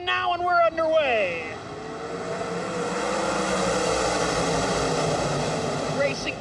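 World of Outlaws sprint cars roar off the green flag at Eldora Speedway, a dirt oval. Engine notes sweep upward at the start, then settle into a dense, sustained roar from the pack.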